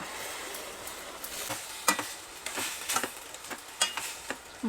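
Raw banana and cluster bean poriyal fries in a pan on a home stove, with a soft continuous sizzle broken by sharp scraping and stirring clicks of a spatula against the pan, close and fairly quiet.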